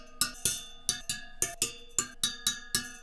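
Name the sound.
tapping Honda CT90 wheel spoke to check its tension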